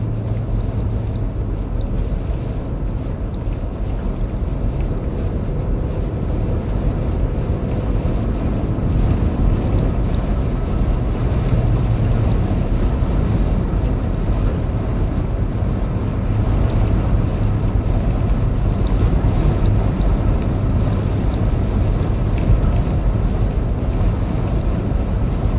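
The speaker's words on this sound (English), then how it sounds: "It's definitely windier up here than it is down south." Strong winter storm wind in southwest Missouri roars steadily and loudly, buffeting the microphone with a constant low rumble and gusty noise for the whole stretch, with no talking.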